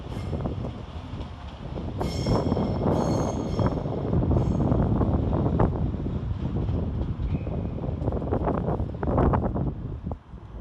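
Class 333 electric train 333.006 departing Leeds station, a loud sustained rumble and clatter of wheels on track with high squeals and wind buffeting the microphone, no talking.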